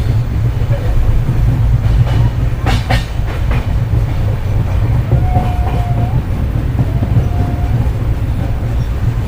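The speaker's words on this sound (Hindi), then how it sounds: "हमारी ट्रेन अभी हर्रा वाले को स्किप कर रही है" The 14114 Subedarganj–Dehradun Link Express running along the rails past a station it skips: a loud, continuous onboard rumble with a rhythmic wheel clatter and a few brief, thin tones over the top.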